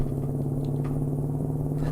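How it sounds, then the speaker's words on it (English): A Mack Superliner truck engine in American Truck Simulator hums as a steady, deep, low rumbling drone with an even tone throughout. "But that engine note is superb."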